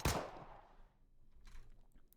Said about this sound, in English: gunshots ring out